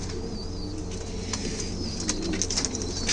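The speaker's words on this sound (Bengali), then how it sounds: "এই যে কবিতর, সব জায়গায় কবিতর" Pigeons coo softly and continuously inside a room where many birds are kept, with low murmuring calls and light chirps over a steady ambient hum and occasional wing movement.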